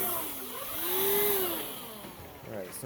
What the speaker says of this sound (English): see if this cordless vacuum does any better than the powered shark